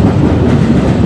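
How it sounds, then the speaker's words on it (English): A CN freight train rolling past a level crossing in Pefferlaw, a close, loud, continuous rumble of wheels and cars on the rails with no gaps. "while the train is passing,"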